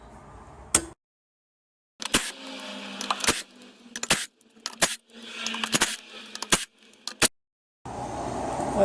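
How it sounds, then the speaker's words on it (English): Bolts coming off a drive plate with a 14mm single hex socket during rear main crankshaft seal replacement: a string of sharp metallic clicks and clanks from the socket and tools, spaced irregularly between quiet gaps, close up. "Just take these bolts off here. These are 14mm."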